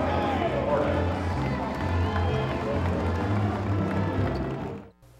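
Crowd applauding senior Lady Hornets players at a high school basketball game, a dense wash of clapping and cheering in a gym that fades out near the end, with an announcer's voice over it.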